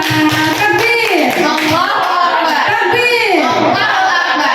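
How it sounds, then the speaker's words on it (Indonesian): A group applauding indoors at a school teachers' workshop, brisk close clapping mixed with loud voices and chatter throughout. "Tepuk tangan untuk kita semua"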